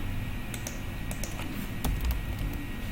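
Keys clatter on a computer keyboard in quick, irregular bursts of typing over a low steady room hum, with no voices.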